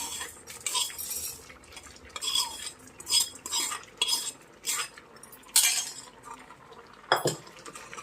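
A spoon clinks and scrapes against a pot as fried flattened rice (atukulu) is stirred into moong dal payasam, with repeated short metallic taps and stirring strokes, fairly close, no talking.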